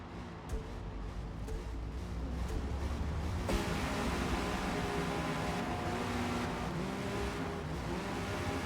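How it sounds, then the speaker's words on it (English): Race car engine in Forza Motorsport, a continuous droning roar with rising and shifting tones as the car accelerates, steady and fairly loud without talk. "The car seems kind of quiet."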